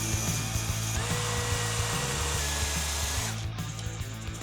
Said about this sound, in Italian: prendiamo la nostra spazzola, quella piccolina attaccata al trapano